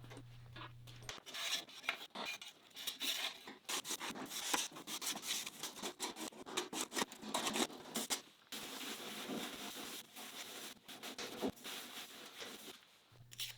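Lathe parts are scrubbed clean of chip sludge by hand, giving faint, close, irregular brushing and rubbing strokes with occasional clinks of metal, with no voices.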